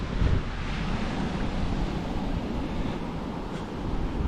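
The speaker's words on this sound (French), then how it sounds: "Il y a un peu de vent mais la mer est calme" A calm rising sea at the shore under a light wind, heard as a steady, even wash of surf with low rumbling wind buffeting the microphone throughout, with no voices.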